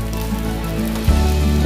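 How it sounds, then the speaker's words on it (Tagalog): Heavy rain pours steadily and loudly as a dense, hissing wash close by, with a brief tonal musical or voice element rising under it partway through. "Malakas ang ulan."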